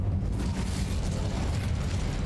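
Incendio fire spell cast in Hogwarts Legacy, a dense, roaring burst of flame with a heavy low rumble that holds steady and loud throughout.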